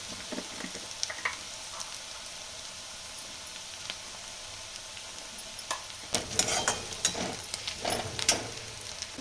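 Onions sizzle softly in a hot pan with turmeric stirred in, a quiet steady frying hiss broken by a few scraping spatula strokes that grow busier and louder near the end.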